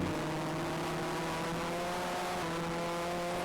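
A race car engine hums at a steady, constant pitch during a race at Sunset Speedway, heard at a fairly faint, even level with a rough, tonal drone throughout.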